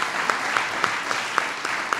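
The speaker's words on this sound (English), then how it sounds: "The reason everybody's applauding is because they've heard him say that every day." Audience applause during a White House announcement of William Daley as new chief of staff, steady clapping with a few sharper accents rising over the wash of hands.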